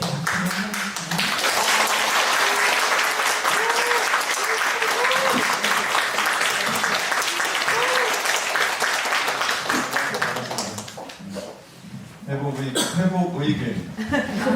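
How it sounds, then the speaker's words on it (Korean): An audience in a church prayer service applauds as a pastor comes forward, a long steady wash of clapping with some chuckles, fading near the end as a voice begins speaking. "나오실 때 박수를 해주세요."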